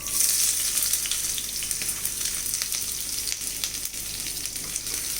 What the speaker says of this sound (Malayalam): ഇതെല്ലാം ഒന്ന് വഴറ്റിയെടുക്കാം